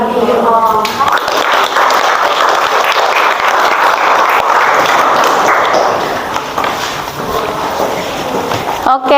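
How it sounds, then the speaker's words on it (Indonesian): Steady crowd applause fills a classroom teacher-training session as participants clap for all the groups, dense and continuous for about nine seconds, with a voice talking over the clapping. "Tepuk tangan lagi sekali ya untuk semua kelompok, semuanya bagus"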